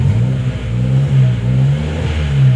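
A car engine revs steadily at idle-to-mid speed after a newly installed aftermarket tachometer is hooked up, a loud continuous hum with slight rises and dips, alone and close by.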